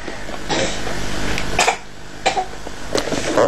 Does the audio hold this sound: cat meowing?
no